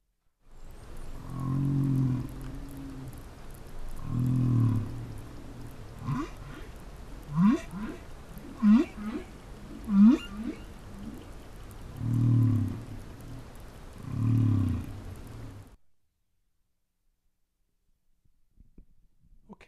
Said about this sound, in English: So now we're going to hear just one phrase from a humpback whale.